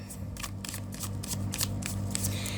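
Tarot cards are shuffled close by, a rapid series of crisp riffling flutters over a low steady hum, with no talking.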